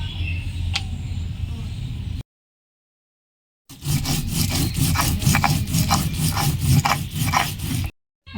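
Cumin seeds ground by hand on a stone, with a steady, close rasping scrub in two bursts separated by a short silence, while cooking Bengali loitta fish.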